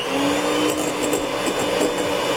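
An electric mixer beats room-temperature butter for gingerbread cookie bars, a loud, steady motor whine with faint rattling of the beaters against the bowl.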